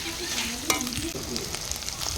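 Ginger garlic paste and a couple of green chilies fry in a pan over a clay stove on a rooftop, giving a steady close sizzle with a few sharp spatula scrapes and clicks.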